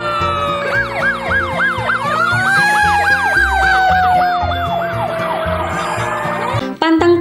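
A toy red fire truck wails its electronic siren, a rapid rising-and-falling yelp that then sweeps into a long tone, loud and close, with a tinny synthesized tune underneath.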